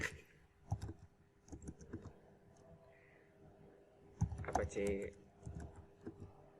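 A command being typed on a computer keyboard, scattered close clicks of keys in short bursts, mostly heard under someone speaking.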